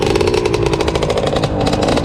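A KTM 350 EXC-F on supermoto tires runs close by at a motocross event, its single-cylinder engine a loud, rapid-firing buzz held steady with slight throttle changes.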